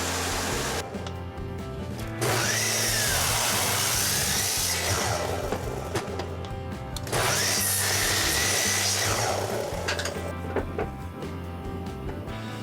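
A power tool cuts wooden chess table legs to length in a workshop, giving a steady loud whine in long passes with short dips between cuts.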